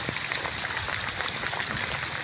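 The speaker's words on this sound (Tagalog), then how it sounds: "lumalakas guys yung ulan" Rain falls steadily and densely, a continuous close hiss of drops pattering on surfaces with no other sounds standing out.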